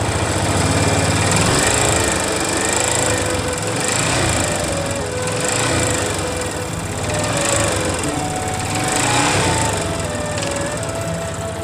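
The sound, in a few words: Yamaha FZ 250 motorcycle engine running with abnormal noise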